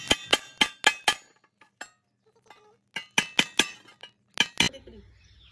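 Holes are punched into a household container for planting, heard as two bursts of sharp, bright metallic taps of about five or six quick strikes each, separated by a few softer knocks and a quiet pause.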